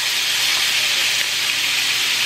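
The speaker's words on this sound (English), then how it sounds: "Now I'm going to add this butter. And onions and asparagus." Butter, onions and asparagus sizzle steadily in a hot pan, a dense, even hiss that holds close and loud throughout with no voice over it.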